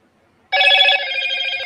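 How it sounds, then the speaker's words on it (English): A phone notification rings loud and close, starting abruptly and holding as a bright, steady electronic trill, alone without any talk over it. "then your phone rings"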